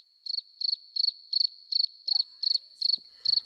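Crickets chirp in a steady, evenly spaced pulsing trill, about nine short bursts, clear and alone against silence, used as a comedic awkward-silence effect.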